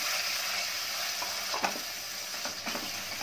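Spinach puree frying in melted ghee over medium-low heat, a dense continuous sizzle with a few light stirring scrapes near the end, no talking.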